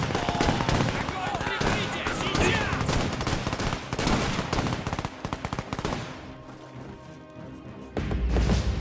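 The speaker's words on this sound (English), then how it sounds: "some gunfire from over here" Rapid bursts of machine-gun and rifle fire in the WWII strategy game Men of War II, dense and sustained, easing briefly before another heavy volley, with a voice talking over parts of it.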